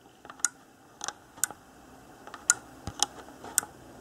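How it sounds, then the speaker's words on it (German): Small sharp clicks from a key microswitch on a bus driver's control panel, about a dozen quiet, close ticks spaced irregularly over a few seconds with no talking. "So ein kleines Klacken und das kommt eben vom Mikroschalter."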